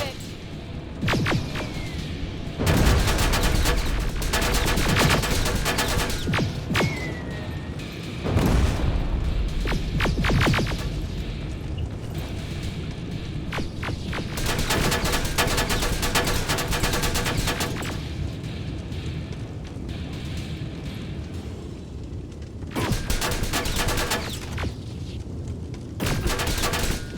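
Bursts of game gunfire from Terminator Resistance crack out in rapid volleys across the scene, loud and close, separated by short lulls, with voices talking in between.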